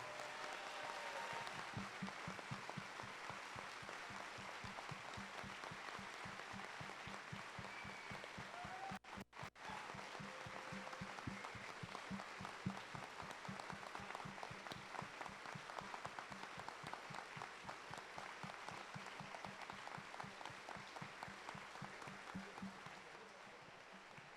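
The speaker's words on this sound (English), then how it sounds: "we would like to have a moment of celebration and a big round of applause for Greg Watson" Big, sustained round of applause at a robotics competition's opening ceremony in a large venue, a dense, even clapping that continues for over twenty seconds with little crowd noise.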